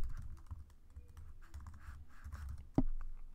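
Quiet, close keystrokes on a computer keyboard patter in irregular bursts while coding in Python, capped by one sharper, louder key thump near the end; no speech.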